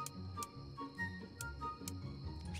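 Steady mechanical ticking in an even rhythm from a firework fuse timer in a fireworks simulator video game, with a faint tonal hum underneath and a soft thump at the end.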